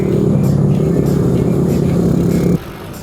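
Honda CRM small motorcycle engine droning steadily at a constant pitch while riding on a small-bike adventure, loud and close for most of the stretch, then dropping away abruptly near the end as the throttle closes.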